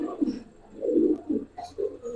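Giribaz pigeons, a silver khaki pair, give several soft, rolling coos in short bursts with brief pauses between, close and fairly quiet, with no talking.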